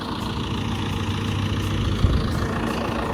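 Tractor engine idling in a hayfield at cutting time: a steady, low, moderately loud rumble with a faint vibration, unbroken except for one small knock partway through.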